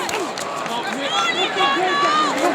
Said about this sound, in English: Crowd showing their approval